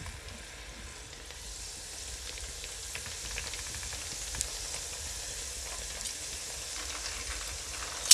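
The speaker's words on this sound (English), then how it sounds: "I'm gonna drop them in the oil." Crab and cream cheese wontons dropped into hot oil a few at a time, a soft, even bubbling sizzle that builds slightly and stays steady, with a small clatter at the end.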